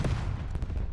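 Rumbling, booming explosions from the space combat game Starcom: Unknown Space, a dense run of crackling blasts layered over a heavy low roar, loud and continuous with no speech.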